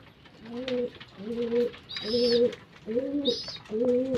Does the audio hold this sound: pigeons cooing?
yes